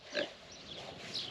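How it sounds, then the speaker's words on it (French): A pig snuffles and grunts close to a parked camper van in Georgia, giving a couple of soft, brief snorts amid a faint outdoor hiss. "avoir un cochon autour du van"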